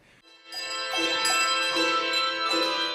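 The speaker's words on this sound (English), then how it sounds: "You can use mallets on them. And it's a beautiful sound" Handbells struck with mallets ring out in overlapping, sustained tones after a brief quiet start, several strikes blending into a bright, lingering chord up close.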